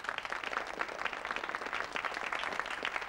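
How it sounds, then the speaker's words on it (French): Steady applause from a television game-show studio audience, dense and continuous, mid-distance, with no voices over it. "je vous demande d'applaudir d'ailleurs"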